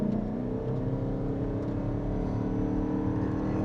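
A 2025 Mazda CX-50 Hybrid accelerates, its CVT engine giving a steady, droning hum from inside the cabin, with no talking.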